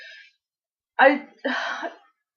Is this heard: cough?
yes